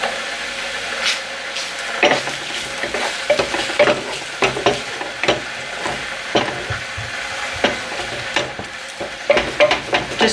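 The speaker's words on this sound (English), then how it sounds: "Just cooking out all that paste and the chilli powder." Tomato paste and chilli powder being cooked out in a non-stick pan for a one-pot pepper and chorizo spaghetti: steady frying sizzle with repeated scraping and stirring knocks of a utensil against the pan, close and alone.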